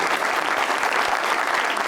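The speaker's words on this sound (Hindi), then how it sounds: "लिए मैं तालियां बजाऊं" Studio audience applause on a television talk show, a steady, dense wash of many hands clapping throughout, loud and continuous with no voices above it.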